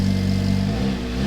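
A car's exhaust drones loudly up close as the engine revs, a steady, throaty tone that shifts slightly in pitch toward the end of the short burst.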